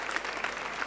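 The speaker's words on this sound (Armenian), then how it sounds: "Ձեր ծափարությունների ներքո" A studio audience claps briefly for under a second, dense, fairly quiet applause with no speech over it.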